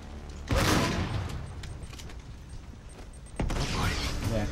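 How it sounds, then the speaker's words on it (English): Enemy gunfire in Uncharted 3, with two loud, crackling bursts of shots, one early and one near the end, each followed by sustained rattling and mechanical game noise at a steady level. "Where those guys are shooting at you."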